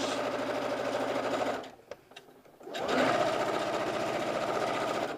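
A domestic sewing machine top stitches a folded-over side seam pocket on a garment, a steady fast mechanical whir that pauses briefly mid-run and then resumes at full speed, close and alone.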